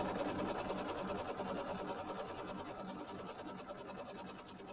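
An embroidery machine stitches a quilting tack-down line, a steady, close, continuous rapid mechanical chatter that runs unbroken throughout.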